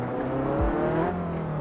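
A turbocharged Abarth drift car in Assetto Corsa, heard as a steady engine drone with a brief whooshing pitch shift partway through, close and continuous.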